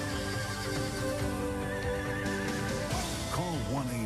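Horses whinny over a bed of music, with a loud, wavering neigh near the end and faint hoofbeats beneath, in an Oklahoma setting of horse shows, trail rides, rodeos and races.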